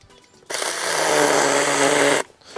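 Mini chainsaw cutting a small nick into firewood: a steady, loud buzzing whine starts abruptly, holds for under two seconds close to the mic, then cuts off sharply.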